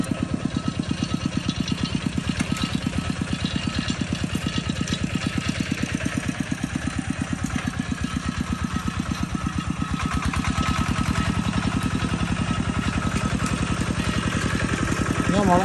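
A farm tractor engine runs steadily and close by with a continuous rhythmic chugging throughout, its loudness rising slightly in the later half.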